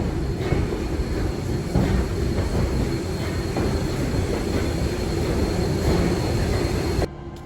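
Southern Railway 630, a steam locomotive, departs back toward East Chattanooga with a continuous loud rumble of its train rolling on the rails, a dense steady roar with wheel noise that stays close and constant before cutting off abruptly.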